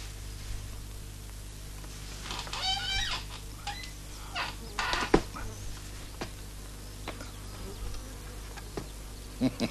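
Honeybees buzzing around a hive being smoked, a faint steady hum with occasional nearer passes and scattered clicks and knocks nearby.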